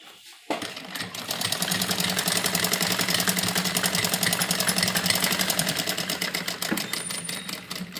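A sewing machine stitching a pleated frock starts abruptly after a moment of quiet and runs in a fast, steady mechanical chatter for several seconds, close and loud.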